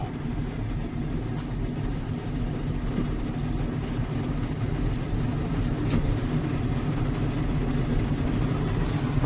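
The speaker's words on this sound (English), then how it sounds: "I'll go ahead and throttle her up, I guess." A 1995 snowmachine with hydraulics idles with a steady low rumble, then throttles up slightly, its engine drone filling the background evenly and smoothly at moderate level.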